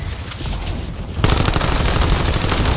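Gunfire from the MPC-25 submachine gun in the video game Warzone, a dense continuous stream of rapid shots that jumps louder partway through and keeps rattling steadily to the end, with no talking.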